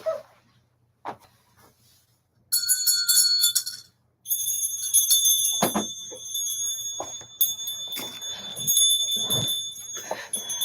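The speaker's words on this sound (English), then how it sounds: "Let me ring you all in." Hand bell rung in repeated bursts, bright metallic ringing with lingering tones, starting after a quiet opening and returning in several shaken rounds.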